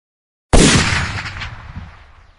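A single loud rifle shot breaks sudden silence, with a sharp crack followed by a long booming reverberant tail that slowly fades.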